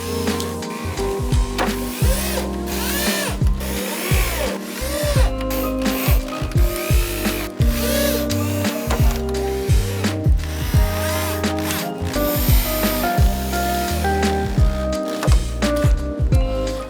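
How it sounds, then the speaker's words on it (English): Power drill driving screws into the underside of wood pallet boards for a desk top, with repeated bursts of whirring motor and ratcheting clutch chatter, separated by short pauses, loud and close. "I'm just putting screws in the underside of the pieces that go on the top of the desk."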